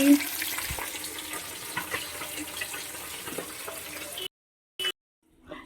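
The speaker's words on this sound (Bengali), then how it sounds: "মাছগুলি লাল লাল করে ভেজে নিচ্ছি" Pieces of fish fry in a pan, with a steady broadband sizzle and spatter that runs for several seconds before abruptly cutting out, followed by a brief burst and faint trailing noise.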